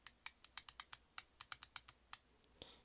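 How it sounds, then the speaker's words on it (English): A small clicker switch on a fidget toy gets pressed repeatedly, giving faint, sharp plastic clicks in an irregular, quick sequence, quiet and close up with nothing else audible. "Top, you've got your little clicker switch."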